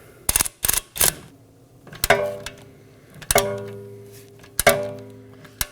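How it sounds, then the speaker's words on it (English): Ratchet wrench working a control arm bolt on a Toyota Camry, a few quick close clicks followed by three heavy metallic clanks with ringing tails, spaced about a second apart. "Support it with a wrench and break the bolt free."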